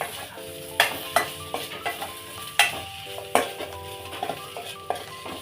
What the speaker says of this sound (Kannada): ಮತ್ತೊಂದು ಸಲ ಕಲಸಿ